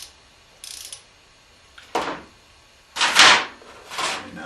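Ratchet loosening the oil drain bolt on a Hyosung GV250 motorcycle during an oil change, several short separate clicking bursts with pauses between them, close and fairly loud.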